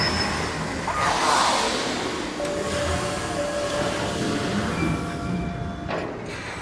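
A train pulls in within the Halo 5: Guardians game, giving a steady, loud rumbling roll with a thin squealing tone above it and no voices.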